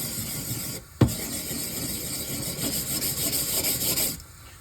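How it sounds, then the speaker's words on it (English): A Japanese natural whetstone has its edge chamfered with 180 grit abrasive, giving a close, continuous gritty rasping rub after a sharp knock, steady for a few seconds before easing off. "I want to make sure I get this, roll this chamfer that edge real good in the corners."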